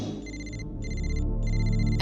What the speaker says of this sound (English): And my phone rang,